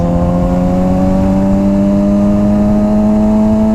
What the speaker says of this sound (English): It's doing good at lower RPMs, but the higher RPMs, it just bogs down.